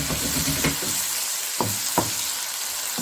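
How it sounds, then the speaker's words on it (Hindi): Red tomatoes fry in a pan for kofta curry, giving a steady, close sizzle with a few sharp spoon knocks against the pan, and no voices. "ये हम थोड़ी देर इसको भूनेंगे फिर हम आपको अभी दिखाते हैं।"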